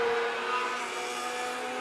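Stock car engines wind up on the back straightaway at a dirt speedway, a steady, droning roar from moderately far off with no voices over it.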